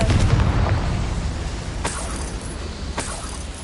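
A Confringo blasting spell in Hogwarts Legacy goes off as a low boom that rolls away, followed by a couple of sharper cracking pops, close and alone.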